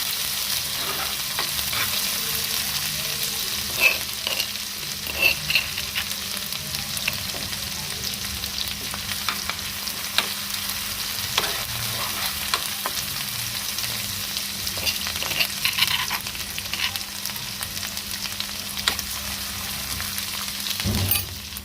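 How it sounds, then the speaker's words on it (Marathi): Kharda, a coarse chili paste, sautéing in hot oil in a pan, giving a steady close sizzle and fry with occasional scraping stir clicks throughout, no voices. "असा खरडा घालून घेऊया तेलावर थोडासा परतून घेऊया"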